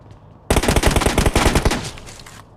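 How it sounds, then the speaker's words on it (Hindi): An M416 rifle in the BGMI battle royale game fires a loud, rapid automatic burst of roughly a dozen shots that starts abruptly and lasts about two seconds, then stops into quiet. "यहाँ पे बेमतलब में फायर करके चला गया।"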